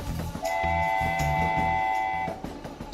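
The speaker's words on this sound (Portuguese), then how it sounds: "Trem." A train sounds a long, steady horn blast of about two seconds over a low, rumbling engine bed, loud and close, then fades back into the rumble.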